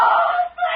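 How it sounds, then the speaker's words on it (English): A woman in a 1940s radio drama screams, a loud, sustained, high-pitched cry that dips briefly and then resumes. "a scream in the night"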